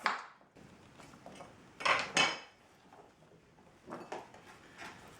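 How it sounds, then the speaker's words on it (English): A knife chopping peeled potatoes on a board, faint and close, with a few sharp clinking cuts spaced irregularly in a quiet kitchen. "We can chop it now. Once you peel it, you just chop"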